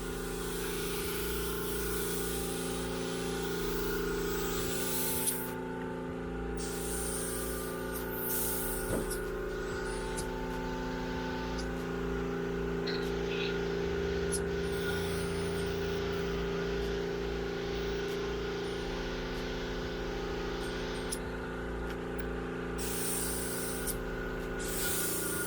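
A spray gun lays down metal flake paint in a steady, continuous hiss with a low pump or compressor hum underneath, long sustained passes broken by brief pauses, fairly quiet and close.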